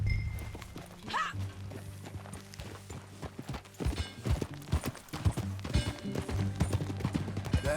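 Horse hooves clip-clop in Red Dead Redemption 2, a steady walking rhythm of hoofbeats over a low music bed, with a brief whinny-like call near the start and occasional sharper impacts.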